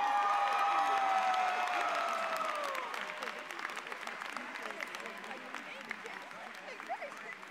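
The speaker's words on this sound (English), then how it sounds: "Please join me in offering a hearty round of applause for the" Law school graduates at a convocation ceremony receive a dense round of crowd applause, loud at first and then tapering off gradually, with a few voices faintly underneath.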